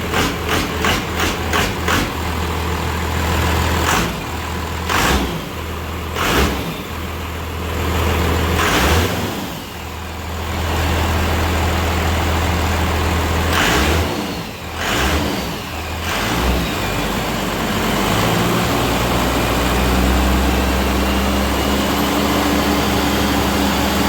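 Heavy truck engine with a 12-valve diesel idling loudly after its first start, rumbling low and close, with a series of sharp revs and bursts early on before settling into a long, steady warm-up idle.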